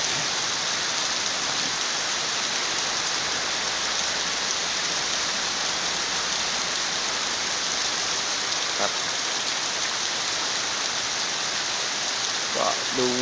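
Steady rain falling in early evening, a dense even hiss throughout with a few faint drips and knocks near the end and no clear speech.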